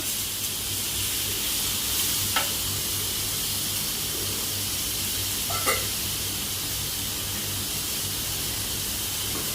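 Luffa and shrimp sizzle in a hot pan, a steady loud hiss of frying with a couple of brief scraping clicks as the food is stirred.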